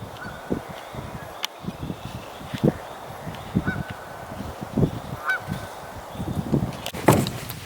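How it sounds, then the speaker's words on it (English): Several geese honk in short, irregular bursts at moderate distance by a lake where they are nesting, with louder calls near the end over outdoor background noise. "Looks like there are some geese trying to nest here."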